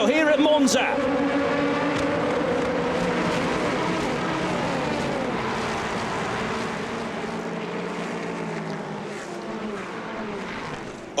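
Race cars launching at the start of the 2022 4 Hours of Monza, a European Le Mans Series round, with a loud, sustained blend of many engines roaring together under a commentator's voice.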